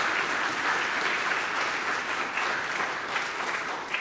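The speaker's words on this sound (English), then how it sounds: "we'll give them a round of applause" An audience claps steadily and evenly for soloists at a community chorale concert, a dense applause that holds at a constant level throughout.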